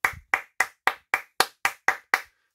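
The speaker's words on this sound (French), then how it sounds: "Suivi de mes applaudissements." Nine crisp hand claps in a steady, evenly spaced rhythm, loud and close with nothing else underneath, given as applause for a Daredevil LEGO minifigure.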